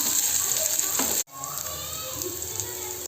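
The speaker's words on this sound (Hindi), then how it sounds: "यहाँ पर मैं दाल फ्राई कर रही हूँ, तो सिंपल सा तड़का लगा करके।" Dal frying in a pan with a simple tadka, a steady loud sizzle that cuts out briefly and then resumes as continuous close-up crackling.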